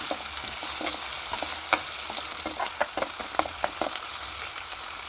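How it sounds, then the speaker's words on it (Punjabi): Pounded garlic and ginger with curry leaves and chillies fry in hot oil for a tadka, making a steady close sizzle with light crackles and the tap of a stirring spoon. "ਜੋ ਆਪਾਂ ਨੇ ਕੁੱਟਿਆ ਸੀਗਾ ਲਸਣ ਅਦਰਕ ਵਗੈਰਾ ਇਹਨਾਂ ਨੂੰ ਆਪਾਂ ਚੰਗੀ ਤਰ੍ਹਾਂ ਫਰਾਈ ਕਰਾਂਗੇ"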